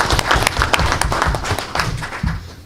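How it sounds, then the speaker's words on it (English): Audience applause for a school district staff recognition at a board meeting, a steady patter of many hands clapping at moderate distance, continuous for the whole stretch. "All right, round of applause nonetheless."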